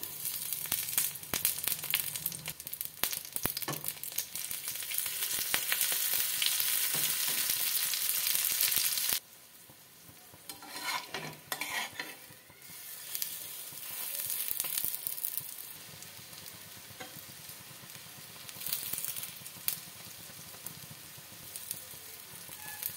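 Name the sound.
pumpkin flowers frying in hot oil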